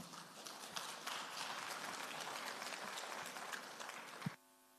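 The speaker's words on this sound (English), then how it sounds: "Another round of applause for Mr. Brown." Audience applause for a presenter at a national security cyber conference, steady dense clapping held for about four seconds and then cutting off abruptly.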